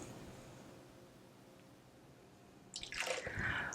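Water splashes and pours briefly into a blender holding millet near the end after a quiet stretch of low background noise, sounding close and fairly soft.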